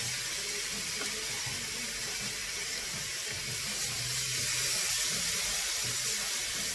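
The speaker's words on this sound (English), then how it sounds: "You should hear that sizzle." Steady, loud hissing sizzle of fish frying in a hot pan, continuous and close, with no talking.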